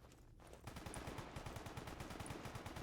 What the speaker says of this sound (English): gunshots going on down there